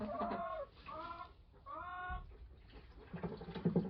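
Chickens cluck and a rooster gives drawn-out calls, a few harmonic crows in a row, close by, with soft farmyard rustling in between.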